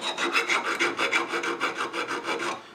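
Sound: filing filler on a lead figure

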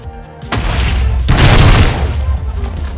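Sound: Greymon explosion in Minecraft Digimobs video game

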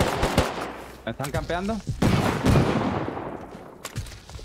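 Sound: gunfire in the video game Rust

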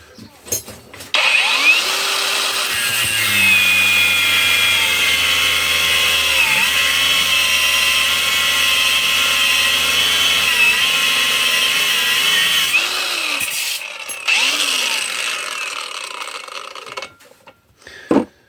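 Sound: Razor angle grinder cutting 12 mm rebar

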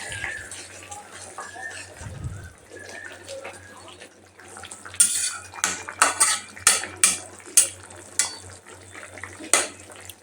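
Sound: stirring koi fish curry with potatoes in a pan

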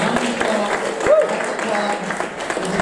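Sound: comedy club audience applause

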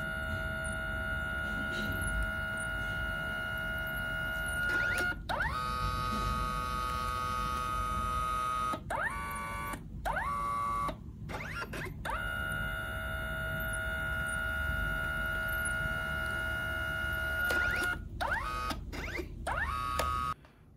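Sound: Kodak Mini Shot 3 Retro instant camera printing a photo

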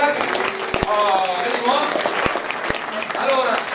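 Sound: audience applause

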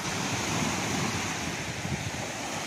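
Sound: waves crashing at KRS backwaters

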